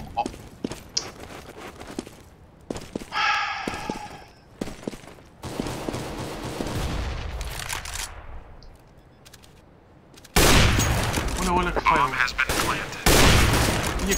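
Gunfire in the video game CS:GO, bursts of loud sharp shots and bursts of automatic fire separated by quieter stretches of footsteps and movement, with people talking over parts of it.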